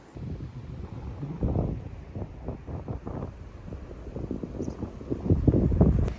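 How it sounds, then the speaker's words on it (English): Steady wind buffeting the microphone outdoors by a lake, a low rumbling roar with gusts that swell and fade throughout. "Hopefully it's not too windy for you to hear me"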